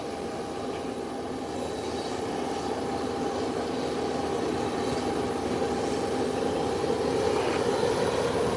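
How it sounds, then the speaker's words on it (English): A steady, continuous engine drone from an ATR 43, a smaller commercial airliner, apparently in a flight simulation game, holding an even level throughout with no talk. "we have the ATR 43. It's commercial, it's just that it's a smaller aircraft."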